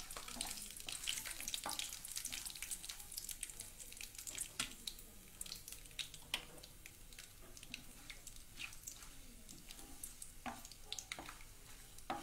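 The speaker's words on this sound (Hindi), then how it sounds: "ये कुछ बादाम है, ये भी हम फ्राई कर लेंगे और ये अखरोट" Almonds and walnuts frying in a pan until crisp, a faint, steady crackling sizzle with light irregular ticks and clatters throughout.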